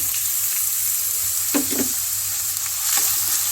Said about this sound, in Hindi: ऑयल गर्म हो चुका है, इसमें प्याज को डालेंगे और सॉफ्ट कर लेंगे।